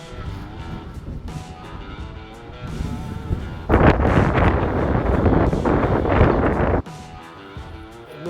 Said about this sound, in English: It's pretty windy. It's pretty gusty and shifty.